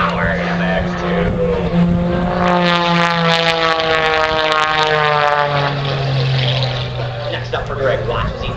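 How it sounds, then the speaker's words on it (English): A carbon fiber MX2 aerobatic airplane running on ethanol performs at an air show, its propeller engine droning loudly and shifting in pitch as it maneuvers overhead, while an announcer talks over it on a PA. "Dancing this beautiful carbon fiber MX2 through the sky, demonstrating pirouette."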